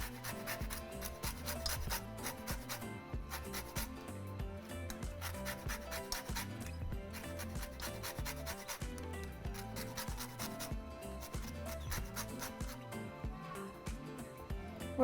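A lemon is zested against a grater: soft, steady rasping strokes repeat close by for about fifteen seconds at a quiet level, with no voices.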